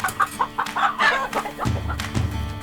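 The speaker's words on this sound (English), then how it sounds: "we need to get these chickens up that escaped before we were able to set up the other fence" Escaped backyard chickens cluck and murmur nearby in short, irregular bursts over a low background rumble, close and fairly quiet, with no talking.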